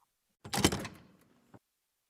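A door opens in a quiet room with a short rattling scrape, followed a moment later by a faint knock.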